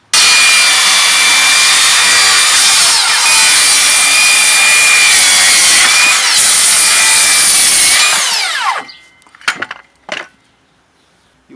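A Makita 36-volt cordless circular saw rips through wood with a loud, close, sustained whine for about eight seconds. The blade spins down afterward, and a few short knocks and clunks follow as the cut ends.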